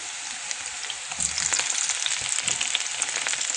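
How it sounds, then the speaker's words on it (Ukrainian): Sliced half-ring onions frying in a hot pan, a steady dense sizzle that grows slightly louder midway and continues alone without talk. "На пательню розігріту кидаємо порізану напівкільцями цибулю і жаримо до золотистого кольору"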